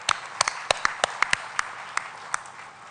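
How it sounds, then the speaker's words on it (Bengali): Scattered handclaps from an audience at the Bangla Academy book fair: about a dozen sharp, separate claps spread over a few seconds rather than a dense ovation, with faint room noise between them. "তাদের উদ্দেশ্যে আমরা একটা হাততালি দিই"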